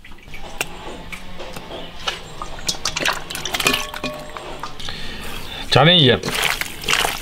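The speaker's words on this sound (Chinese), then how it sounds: "然后把这个泥鳅鳝鱼给它洗一下" Live loaches and eels rubbed and washed by hand in water with salt, with wet sloshing, dripping and splashing, a sharp loud splash near the end, under someone talking.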